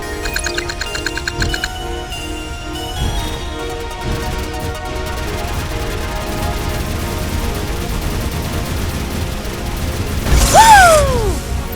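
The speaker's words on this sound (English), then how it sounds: "If you manage to get other targets in range, the explosion will hit them all." Explosions strike several targets in the Project AETHER: First Contact combat game, a dense burst of booming blasts and rattling gunfire-like crackle over a steady game soundscape, swelling loudest near the end with a whooshing sweep.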